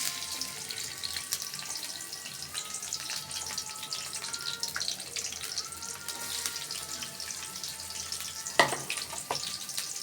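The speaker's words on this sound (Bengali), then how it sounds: "দিয়ে দিব পেঁয়াজ কুচি।" Chopped onions frying in hot oil in a pan, with a steady, fairly soft crackling sizzle throughout and a brief clatter near the end; no one speaks.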